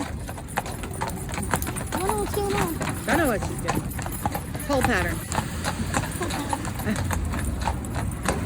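Steady clip-clop of hooves from a ridden horse at the Fort Worth Stockyards, continuous and fairly close, with people talking over it and outdoor background noise.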